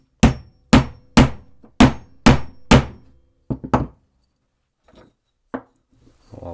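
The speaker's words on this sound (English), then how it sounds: "So we'll hammer it in the same place." Hammer driving a nail into a wooden board, six loud evenly spaced blows followed by a few lighter, irregular taps as the nail goes through.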